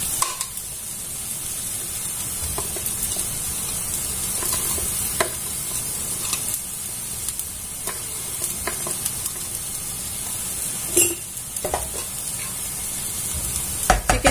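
Cooked chicken, boiled with turmeric, salt and pepper, is stirred into a frying filling for chatti pathiri. Steady sizzling and hiss run throughout, with occasional spoon scrapes against the pan.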